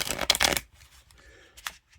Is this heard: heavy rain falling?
no